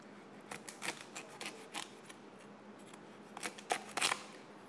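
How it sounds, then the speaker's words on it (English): Lobster tail being cut into small segments in a kitchen, a series of quiet crunching snips and clicks in irregular bursts, faint and close with no talking. "Cutting the tail into little segments."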